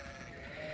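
A single sustained bleat from a mountain sheep on a farm, close and clear, lasting under a second with no talking.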